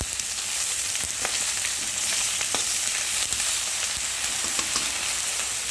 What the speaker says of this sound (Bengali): এখন একদম ভালো করে ভাজা করে নিচ্ছি